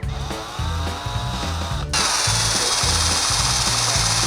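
Power drill boring through a red PVC cap, a whining motor with rhythmic pulsing bursts that grows louder and harsher partway through as the bit cuts in, close up.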